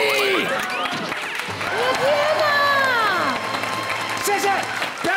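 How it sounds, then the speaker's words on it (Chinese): Audience on a Taiwanese variety talk show breaks into applause and cheering, a loud crowd of clapping mixed with shouts and voices talking over it for the whole stretch. "掌声鼓励。"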